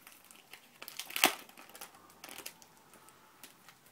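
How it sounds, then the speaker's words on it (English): Plastic wrapping being pulled off a Kindle Fire, with faint crinkling and one sharp crackling tear amid light rustles, close and quiet. "It's wrapped in plastic. We'll unwrap it."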